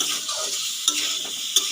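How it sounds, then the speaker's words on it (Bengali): Keema chana masala is stirred in a frying pan with a steady sizzle, broken by two sharp clinks of a utensil against the pan. "কিন্তু তার আগে এটা একটু নেড়ে নিই, কষিয়ে নিই"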